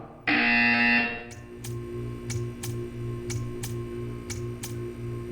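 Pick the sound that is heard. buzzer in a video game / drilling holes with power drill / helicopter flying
buzzer in a video game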